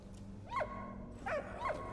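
A dog barks in the World War I video game Valiant Hearts: The Great War, three short yips spaced about half a second apart over a low steady game background, fairly close and moderate in level.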